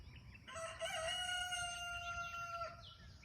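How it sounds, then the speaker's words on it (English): A rooster crows once on a farm in the morning, a long drawn-out cock-a-doodle-doo with clear harmonic tones, heard at moderate distance over a low outdoor background rumble. "I like the new rooster."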